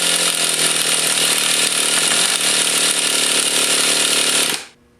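Traxxas T-Maxx RC nitro engine being cranked by a starter, a loud, continuous high-pitched buzzing whine that holds steady for over four seconds before cutting off abruptly, without the engine catching.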